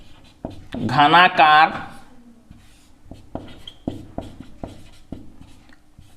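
A maths solution is handwritten during a class 9 lesson. Someone speaks briefly at the start, then a series of crisp, close tapping and scratching strokes follows in an irregular rhythm.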